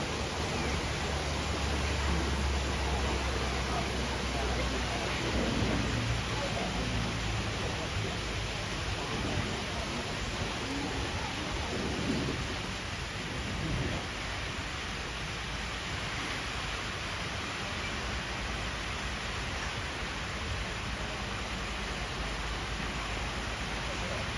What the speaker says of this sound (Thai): ฝนตกมาแล้ว